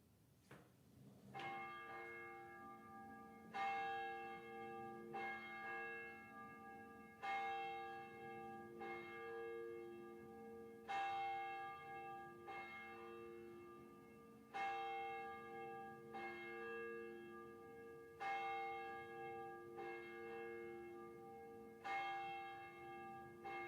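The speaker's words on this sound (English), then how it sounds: "we take a moment to center ourselves with the pealing of the bell." A church bell rings out repeatedly at a slow, even pace, each stroke ringing and fading before the next, heard from a distance.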